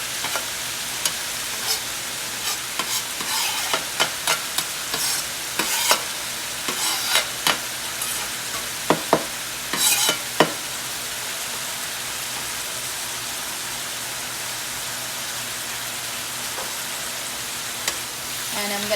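Garlic, onions, scallion and cilantro sizzle in a hot pan, with scraping stirs in irregular bursts over the first half, then a steady hiss of frying carrying on alone.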